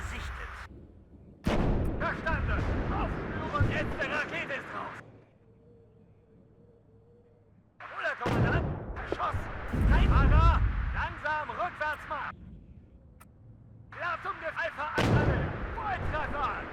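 Bombing strike explosions in the military strategy game WARNO burst in heavy, booming blasts during two long bursts separated by quieter gaps, with someone talking over the action.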